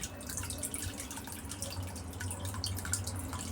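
Water runs and splashes steadily into a tank fitted with an automatic water level control valve, a continuous close trickle with dripping, no voices.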